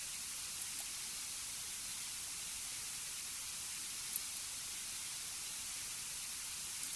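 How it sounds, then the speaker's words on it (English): Continuous static hiss from the video game You Are Worthless, an even, rain-like white noise held at low level throughout, with an occasional faint tick and no speech. "Because listen, you can hear the static,"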